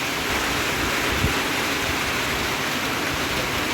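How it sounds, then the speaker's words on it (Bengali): Steady rain pours down in a dense, even hiss that stays loud and unbroken throughout, with no voices. "আবার বৃষ্টিটা নামলো এই যে দেখো তোমরা"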